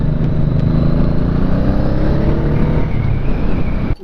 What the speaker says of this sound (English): this bike sounds pretty killer.